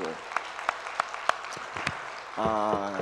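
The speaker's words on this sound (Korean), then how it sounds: "우리 저 1교구 2교구 우리 박수 한번 해." Church congregation at a Korean New Year revival evening service clapping for the worship team, a few sharp spaced claps rising into brief applause, then a voice talks over the end.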